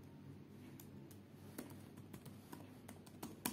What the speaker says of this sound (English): in this search box, just type Windows USB